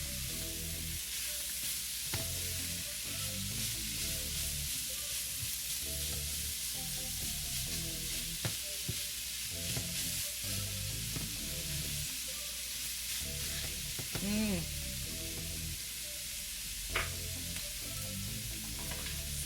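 Onions, peppers and thyme fry in a pan, an even, quiet sizzle running throughout with occasional stirring knocks and scrapes, close up and with no one talking.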